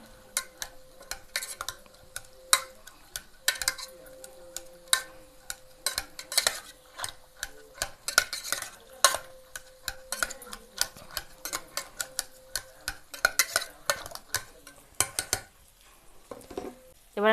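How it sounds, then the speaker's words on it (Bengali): Boiled peas mashed with a spoon in water for a vegetarian ghugni, giving a steady run of quick, close metal-on-bowl clinks and taps with brief pauses and no talk. "যে মটরগুলো সিদ্ধ করে নিয়েছিলাম ওগুলো একটু চামচ দিয়ে দিয়ে একটু ঘেঁটে নেব জলের সাথে"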